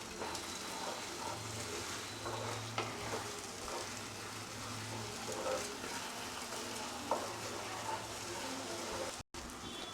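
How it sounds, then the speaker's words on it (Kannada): Beaten eggs sizzling and being stirred in a hot pan over a raised gas flame for egg bhurji, a steady frying crackle with spatula scrapes, close and continuous. "ಮೊಟ್ಟೆ ಹಾಕಿದ್ಮೇಲೆ ನೀಟಾಗಿ ಚೆನ್ನಾಗಿ ಮಿಕ್ಸ್ ಮಾಡ್ಕೊಳ್ಳಿ ಈ ಥರ"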